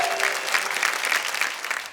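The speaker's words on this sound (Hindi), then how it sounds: "अब आइए जरा जोरदार तालियां बजाइए।" Applause from a Hindi poetry-recital audience, dense, steady clapping filling the whole stretch at moderate level with no voices on top.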